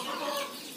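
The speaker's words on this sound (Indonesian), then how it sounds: "Jadi ini anak ayam" Day-old kampung chicks cheep in a poultry pen, a brief burst of high, thin overlapping peeps close by.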